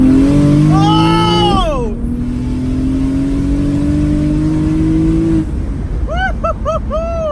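A big single turbo BMW 335i screams through a dyno pull, its engine note climbing steadily as it revs, then drops off, followed by turbo whooshes and a short shout of excitement.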